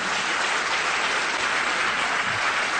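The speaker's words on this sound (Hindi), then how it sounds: "वैसी तालियां इनके लिए बजा दीजिए आप।" Dense, steady audience applause from a large crowd at a Hindi-language business event, sustained and loud throughout with no talking over it.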